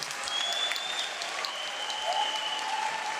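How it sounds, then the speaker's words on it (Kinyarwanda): Church congregation applauding steadily, a dense crowd of clapping hands sustained throughout at moderate loudness with no break. "Mwene mufashe gukomera amashyi umwungere wacu"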